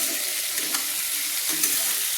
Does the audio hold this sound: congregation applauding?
no